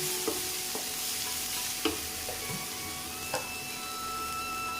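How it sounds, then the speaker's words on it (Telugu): Jackfruit pieces for curry, turmeric added, lightly frying in a pan: a soft steady sizzle under a constant background hum, with a few sharp stirring clicks, fairly quiet and close. "వీటిని కొంచెం లైట్గా వేయించుకోవాలి"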